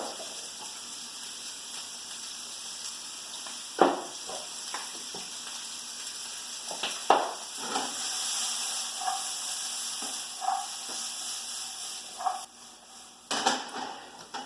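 Peppers and onions sizzle steadily in a hot pan, a continuous hiss broken by occasional clinks and scrapes of stirring.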